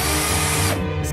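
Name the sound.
power drill screwing a board in place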